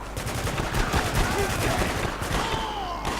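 Gunfire in the video game Spec Ops: The Line, bursts of rapid automatic shots in quick succession, loud and near, with a voice speaking intermittently underneath.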